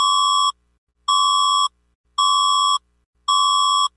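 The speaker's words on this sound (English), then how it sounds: "Is that the Philippines EAS alarm?" Philippines Emergency Alert System alarm tone: four loud, identical electronic beeps about half a second long, evenly spaced by short gaps, sounding alone with no talk.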